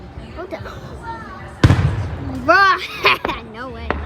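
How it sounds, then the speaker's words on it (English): Fireworks going off: a sharp, loud bang followed by crackling, mixed with excited talk and exclamations from people watching nearby. "Damn, that's a big high firework."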